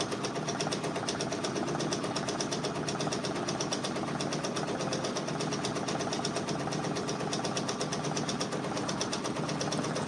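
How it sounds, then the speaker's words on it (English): An embroidery machine stitches out a Drake patch, running as a fast, even mechanical chatter with a constant buzzing drone, steady and uninterrupted throughout with no voices. "doing some stitching out."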